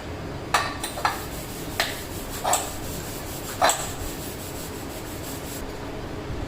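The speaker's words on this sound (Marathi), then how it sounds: "आता चहाचं पातीला तेवढं घासून घेतोय" A tea pot is scrubbed in a home kitchen, giving a handful of short, quiet scraping strokes spaced unevenly over a faint background hiss.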